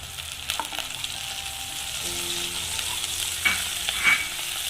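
Curry leaves fry in a masala with green chillies, giving a gentle, even sizzle and a few scraping stirs, with two brighter strokes near the end.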